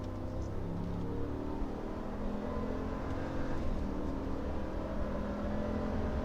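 A 2019 RAM Rebel 1500 Quad Cab 4x4 pickup accelerates on a highway, its engine a steady, dense drone with a low rumble and road roar that holds constant and close throughout.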